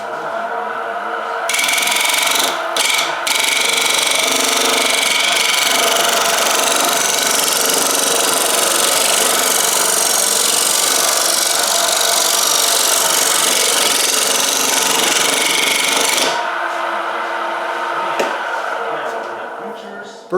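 A wood lathe turns a birch bowl, throwing shavings with a loud, continuous rough scraping and whirring over a motor drone that runs for about fifteen seconds before easing off.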